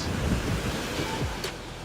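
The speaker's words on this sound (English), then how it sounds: "The Wyangala Dam in New South Wales is currently overflowing at a record rate." Water overflowing from the Wyangala Dam in New South Wales at a record rate, a loud continuous rushing roar with heavy wind buffeting the microphone, no voices.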